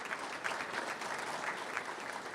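Steady, even applause from an audience at a public safety award ceremony, a soft but continuous patter of many hands clapping in a hall, heard without speech.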